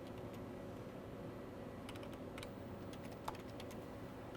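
Typing on a computer keyboard into the Windows search box: a short quiet burst of clicky keystrokes in small clusters over a faint steady room hum, with one sharper key tap near the end.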